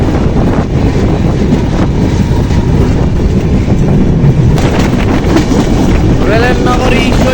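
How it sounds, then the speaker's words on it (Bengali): Madhumati Express train pulling out of Ishwardi Junction railway station, loud rumbling and clattering of wagons up close with wind buffeting the microphone. "আজকে আমাদের মধুমতি এক্সপ্রেস ট্রেনটি তার নির্দিষ্ট সময়ে ছেড়ে যাচ্ছে ঈশ্বরদী জংশন রেলওয়ে স্টেশন থেকে"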